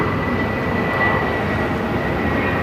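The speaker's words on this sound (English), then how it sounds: "it's flight 962 coming in from Albuquerque. And a 737-800." A Southwest Boeing 737-800 airliner arriving at Phoenix airport, a loud, continuous jet engine roar with a steady whine that stays at a constant level for the whole stretch, with no voices.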